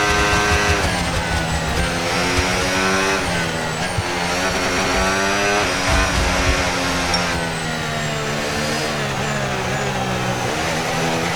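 Formula 1 race car engines in the F1 26 video game drone at high pitch throughout, several cars revving and shifting close by in a steady, continuous roar with no talk.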